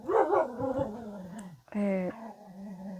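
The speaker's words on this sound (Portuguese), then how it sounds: "Meu cachorro não pode ouvir nada na rua que ele começa a latir" A pet dog barks and yelps with a few sharp, whining tones, heard close by alongside a person speaking.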